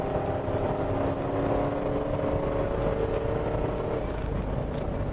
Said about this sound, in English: I'm giving it full throttle and it's really got great pickup.